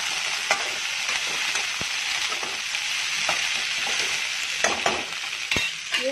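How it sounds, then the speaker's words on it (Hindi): Arhar dal and vegetables frying with spices in a pan give a continuous close sizzle, broken by occasional scraping clicks of a spoon stirring. "सब्जी भी डाल देती हूँ जो है, फिर मसाले भी डालेंगे तो साफ साफ सब कुछ भुन जाएगा अच्छे से, मसाले के साथ फ्राई हो जाएगा।"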